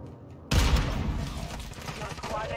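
Gunfire in a Call of Duty match on Ashika Island breaks out suddenly as a dense, loud burst of rapid shots that keeps rattling on, close and harsh, with voices mixed in underneath.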